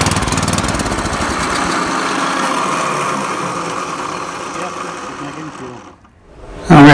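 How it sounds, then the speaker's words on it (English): An Ariens A24 snowblower engine fires up after ether is sprayed into the spark plug hole, running with a loud, rapid, rough clatter before cutting out abruptly near the end. "we have the Ariens A24 snowblower"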